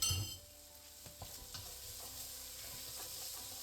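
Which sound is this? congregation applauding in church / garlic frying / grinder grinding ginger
garlic frying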